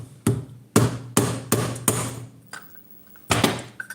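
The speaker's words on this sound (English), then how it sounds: "I don't know if I can hammer it." A metal cone for the secondary air tube of an oil gun is struck with a hammer, giving six loud, sharp, ringing blows in a steady uneven rhythm, close up with no talking.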